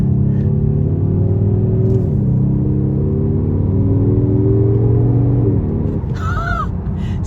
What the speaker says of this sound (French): si on se met en mode sport, là automatiquement on va entendre le moteur quand je vais réaccélérer qui va faire un bruit un petit peu plus sourd